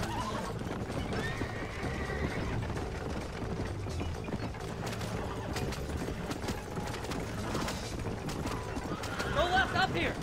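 Horse hooves clip-clop at a gallop in the Western video game Red Dead Redemption, with whinnies and wagon rattle, steady and close under a voice.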